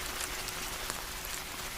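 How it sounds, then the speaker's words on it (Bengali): Rain falls steadily in a cartoon, a dense even hiss of drops on surfaces with no pauses and no voices. "যে বৃষ্টি শুরু হয়েছে, জানি না কবে ছাড়বে।"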